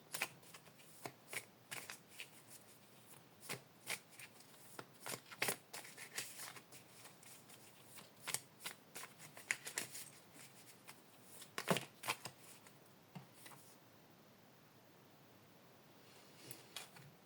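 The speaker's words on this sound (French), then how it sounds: "Je vais tirer une dernière carte." Oracle cards being shuffled and drawn during a full-moon card reading, a rapid run of crisp riffling and slapping card snaps that continues steadily, then briefly quietens near the end with a few last flicks, with no talk.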